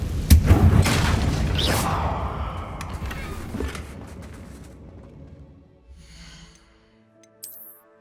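A Confringo spell from Hogwarts Legacy detonates with a heavy booming blast up front, followed by a long rumbling decay that fades away over several seconds, with a few faint effects near the end.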